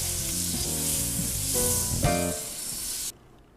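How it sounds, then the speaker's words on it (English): Garlic and onion dropped into melted fat in a soup pot, bursting into a loud, bright sizzle with clattering stirring, then easing off and cutting out abruptly near the end. "we're going to add the garlic and the onions into the pot"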